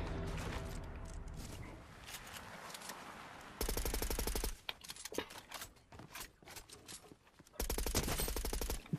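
SMG fire in Fortnite comes in two loud, rapid bursts separated by a quieter stretch of game sounds, each volley a sharp, dense rattle lasting about a second.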